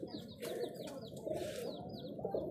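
White Madrasi pigeons in a loft, soft low cooing and rustling with a few faint higher chirps, close and quiet, no talk.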